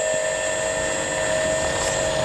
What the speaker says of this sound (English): The squirrel, it's taken off in the plane!